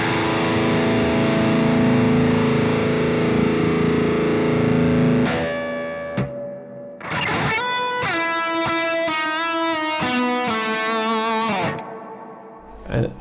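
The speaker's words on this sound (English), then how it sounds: "we're going to actually put in a high shelf filter." A distorted electric guitar rings out with heavy effects, reverb and a high-shelf EQ filter, sustained chords giving way to picked notes and swelling reverb tails.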